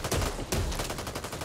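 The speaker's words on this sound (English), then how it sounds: "Watch where you're shooting." Gunfire in the zombie shooter Back 4 Blood: a rapid burst of loud automatic shots fired close by, the cracks following each other quickly over a second and a half with no talking.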